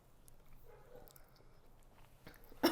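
Soft, wet chewing of a mouthful of coffee and mascarpone tiramisu, quiet squishy mastication close to the microphone, ending in a brief sharper sound, with no talking.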